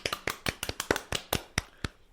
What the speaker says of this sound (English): Insert applause noise there.